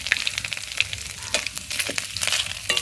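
Close, continuous sizzling of vegetables frying in a pan, with crackles and occasional scraping as they are stirred.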